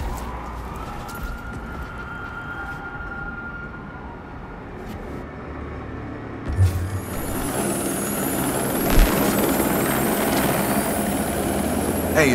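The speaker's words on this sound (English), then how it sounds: "I do believe that is a helicopter." A helicopter's steady rotor drone in Watch Dogs 2 rumbles beneath game sounds, growing louder and brighter midway with a few thuds and mechanical hisses.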